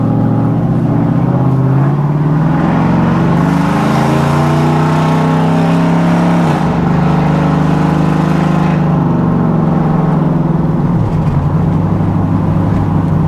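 A 2005 Chevrolet Avalanche truck with no mufflers drives close by, its loud, raw engine note rising and falling as it revs and shifts through gears, dominating with no talk over it.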